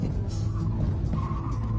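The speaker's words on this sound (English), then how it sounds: "deliberately throw the weight to send it sideways, and then control the slide with opposite lock" A front-wheel-drive car skids sideways through a deliberate drift, tires squealing in a rising, wavering screech over a continuous engine roar.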